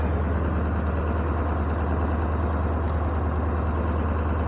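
An old Ford F600 truck engine runs steadily after being fired up, a loud, close, continuous low idle rumble with no break and no talk.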